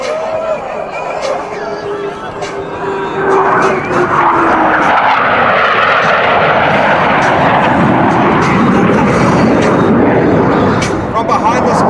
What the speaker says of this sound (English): Blue Angels 5 and 6 are approaching